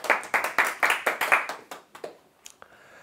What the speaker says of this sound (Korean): 박수를 크게 안 치시는데